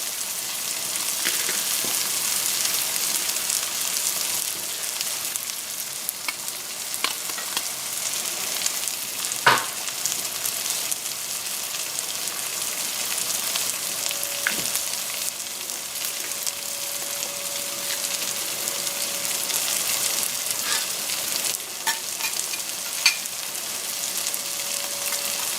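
Three garlic cloves fry in a pan with a steady, even sizzle throughout, broken by a few sharp clinks and scrapes as they are stirred; no one speaks.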